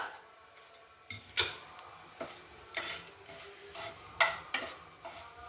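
Garam masala and bay leaf frying in oil for a tempering, with a soft steady sizzle under sharp ticks and clinks of a spoon against the pan at irregular intervals, close up and fairly quiet.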